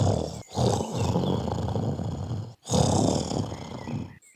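A cartoon crow snores loudly in two long, rasping breaths with a short pause between them, the snore sounding roaring and throaty.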